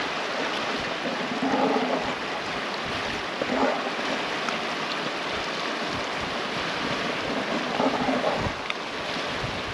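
Steady river water flowing with a continuous rushing wash, heard up close on a gold and jade prospecting spot with wind buffeting the microphone, no voices.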